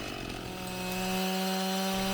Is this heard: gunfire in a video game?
no